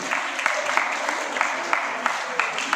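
A karate competition crowd applauding an official, sustained clapping with a few sharper individual claps standing out, moderately loud and continuous.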